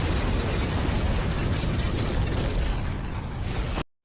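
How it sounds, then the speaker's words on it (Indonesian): In a film scene, a bomb detonates inside an ambulance, unleashing a loud, roaring blast that rumbles continuously for nearly four seconds before cutting off abruptly. "si penelpon meledakkan bom yang ternyata telah dipasang di badan pria yang berada di dalam ambulan."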